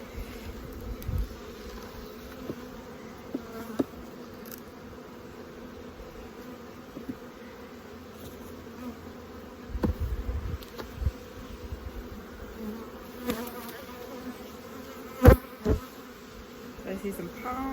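Honeybees buzz around an open hive on a farm, a steady mid-level drone with scattered closer passes and a few brief knocks and rustles, no voices.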